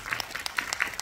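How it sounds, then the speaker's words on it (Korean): Audience applause at a Korean film talk event for the Yi Sun-sin trilogy, with dense steady clapping from a crowd filling the whole moment. "큰 박수 부탁드리겠습니다."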